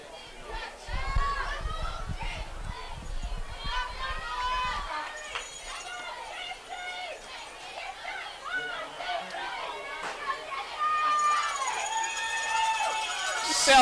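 Stands full of fans at a 2010 Corbin vs South Laurel high school football game keep up a steady roar of chatter and cheering, with a whistling call rising over the crowd noise near the end.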